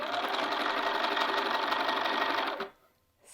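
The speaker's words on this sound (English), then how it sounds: "So you're sewing from the inside." A sewing machine stitches around a long sleeve from the inside, running steadily and close for about two and a half seconds before stopping abruptly, leaving near silence.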